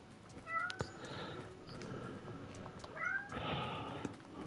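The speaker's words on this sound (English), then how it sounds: "sorry for the meowing that you can hear in the background" Cats meowing in the background of a room, several drawn-out cries at moderate distance, with two or three distinct meows over a few seconds.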